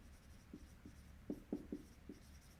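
Chalk or marker writes on a board in a lecture setting, a run of short faint taps and scratches in an irregular rhythm, quiet and close over a soft room hiss.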